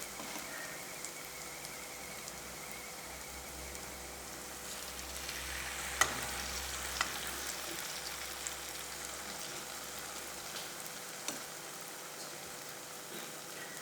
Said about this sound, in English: I'm gonna allow these to fry until golden brown